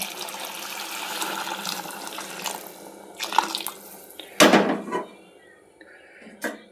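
Water runs and splashes steadily into a pot of rice, with a brief louder gush partway through and a few light knocks, close by and with no talking.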